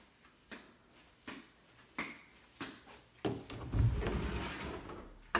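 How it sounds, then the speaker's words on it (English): Closet doors in a house being worked open and shut, with a run of sharp knocks and clicks spaced about a second apart, then a louder scraping slide and bump close by. "this closet, the doors work good"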